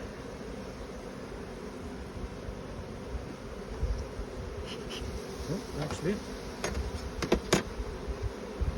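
A dense swarm of honey bees drones continuously around an open hive, close and steady, with brief rustles of handling and a short spoken remark near the end.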